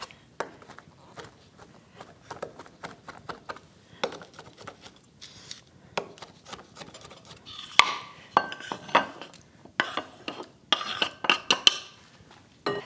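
A knife cuts through cooked tortellini for a pasta salad, sharp scattered clicks and taps of blade against a board or dish, faint at first and then louder, sparse and irregular, with no talk.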